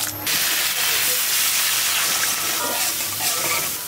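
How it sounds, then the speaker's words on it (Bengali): Prawns frying in a pan for bhuna, a loud, continuous sizzle and hiss with occasional stirring, heard up close. "চিংড়ি মাছ ভুনা করতেছি সাইফানের জন্য।"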